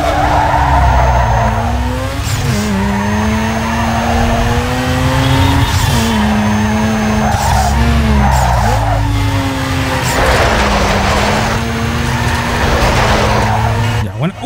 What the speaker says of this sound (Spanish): igual es difícil aquí el derrape del Underground 2